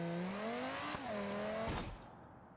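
Audi S8 with 600 horsepower accelerating hard in the BeamNG driving game, a loud engine note climbing in pitch, briefly dropping at a gear change, then revving up again before cutting off abruptly.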